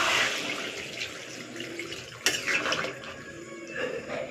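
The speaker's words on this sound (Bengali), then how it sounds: "এবারে এর মধ্যে জল দেবেন। জলটাকে হালকা উষ্ণ গরম করে নিয়েছি।" Warm water is poured into a pan of cauliflower kalia as it cooks, making a close, uneven splashing and gurgling that runs for a few seconds with a short louder surge midway.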